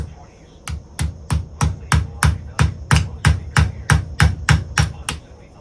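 Sharp, steady hammer strikes ring out one after another, about a dozen evenly spaced metallic taps close by, hammering a pin in a vintage 1970s Case XX pocket knife.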